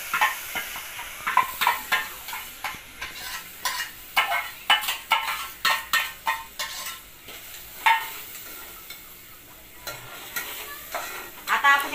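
Masala sizzles and fries in hot oil in a pan while making stuffed brinjal curry, with a steady crackle under repeated scraping and stirring clinks from a spoon, close and moderately loud.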